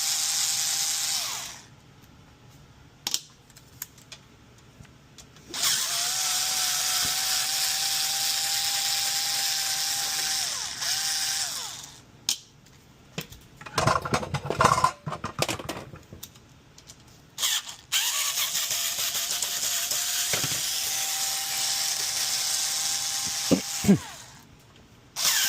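A power screwdriver whirs in short bursts as screws come out of the top cover of a KitchenAid stand mixer. Several bursts are separated by quiet gaps, with small clicks and handling noises between them.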